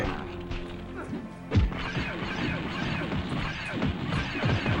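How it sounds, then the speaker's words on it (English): Glass shatters with a sharp crash in the dark video game Nightmare Creatures, a single loud burst followed by scattered clattering and thuds amid busy game noise. "Oh, I heard glass breaking."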